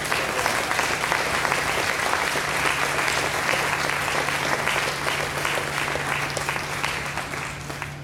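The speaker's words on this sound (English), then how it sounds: "Let's give them all a big round of applause." Sustained applause from a crowd at a mayoral press conference with New York City Mayor Bill de Blasio, steady dense clapping filling the room for the whole stretch and easing slightly toward the end.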